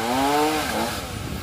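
A chainsaw cuts into a tree, a cajuput or eucalyptus, with a steady loud engine whine that dips slightly as it bites into the wood, and nobody speaks.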